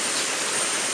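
Rushing water of the rapids near Ulu Bendul waterfall in Kuala Pilah, a loud, dense, unbroken roar heard close up with no voices over it.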